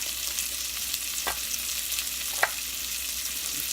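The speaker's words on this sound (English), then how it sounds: "we're going to put some shallots in the vegetables, put them in there, and let them cook in the fat" Shallots fry in rendered sausage fat left from kielbasa, a constant close sizzle with two brief stirring clicks and no voices.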